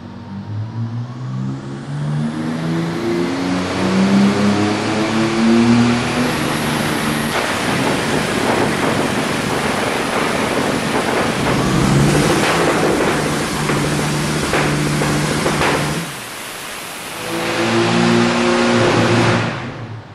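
A BMW M4's S58 engine revs hard and loud close by, rising and falling through several sustained pulls, cutting out briefly before roaring up again near the end.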